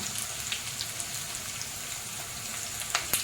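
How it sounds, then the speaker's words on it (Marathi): Finely chopped onion sizzles in a hot frying pan while bitter gourd thecha is being made, a steady, soft crackle with scattered pops and no voices. "त्याच्यानंतर आपण कांदा टाकूया बारीक केलेला."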